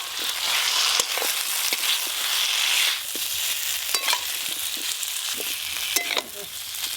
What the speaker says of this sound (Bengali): ভেজে রাখা আলু আর সজনে ডাঁটা দিয়ে দেব।